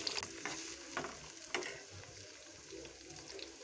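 Tomatoes frying in hot oil with curry leaves in a pan, a soft steady sizzle with a few light clinks and scrapes early on, fairly quiet with no talk.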